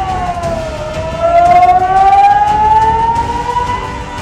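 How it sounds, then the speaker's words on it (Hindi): A civil defense danger alert siren at a football ground wails, rising slowly in pitch and swelling louder partway through, sounding steady and fairly close with a faint background hum. "फुटबॉल मैदान पर खतरे का अलर्ट सायरन बजाया गया था"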